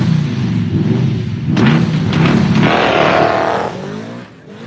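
A 1979 Mustang and a box-body Mustang drag car roar side by side at Woodburn Dragstrip. Loud, close engine noise climbs and surges, then fades as the cars pull away.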